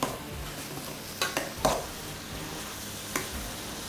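Ginger and garlic frying in a pan with a steady background sizzle, broken by a few sharp clattering strokes as a utensil stirs and knocks against the pan.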